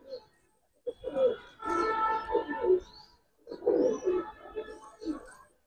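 Giribaz pigeons with kajal-patti eye markings coo in low, throaty rolling bursts, close by, in two main phrases separated by a short pause.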